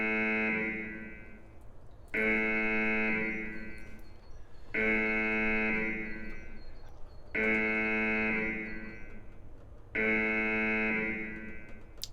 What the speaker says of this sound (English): Get that alarm sound going